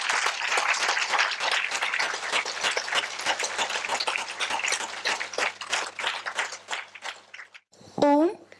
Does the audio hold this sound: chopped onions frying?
no